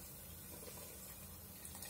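Water pours steadily into a pot of Visayan-style chicken soup with lemongrass, a continuous soft gushing wash filling the whole moment, fairly quiet and close, with no voices.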